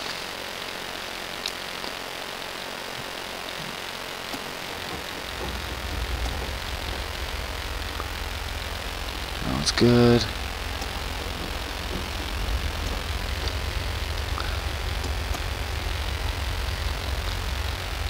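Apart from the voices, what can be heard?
small airplane engine running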